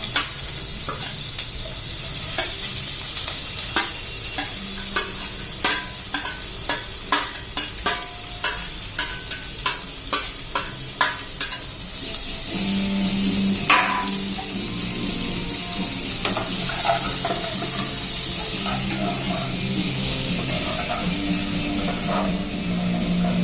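Sliced onions fry in a pan for biryani, a steady loud sizzle running throughout with repeated sharp clinks and scrapes of stirring, and running water or rinsing joining partway through.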